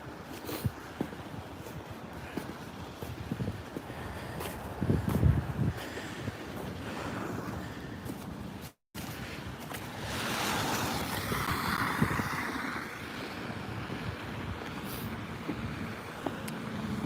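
A strong winter storm wind blows snow, a steady loud roaring rush with gusty swells close to the microphone, cut by a brief dropout partway through.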